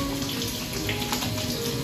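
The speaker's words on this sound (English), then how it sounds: "And wash my hands, Martha Stewart." Water runs steadily from a tap during handwashing, a close, continuous splashing rush with no voices.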